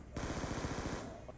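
Rapid automatic gunfire in an Xbox shooter video game, a dense burst of about a dozen quick shots lasting roughly a second, loud and close, with a voice faintly present in the background.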